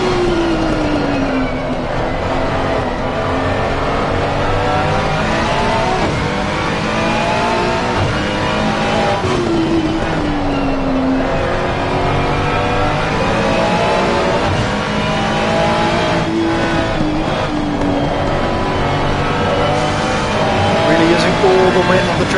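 GT3 race cars lapping Laguna Seca in a racing video game, engines droning steadily and rising and falling in pitch through the corners onto the start-finish straight, with a commentator talking over them throughout.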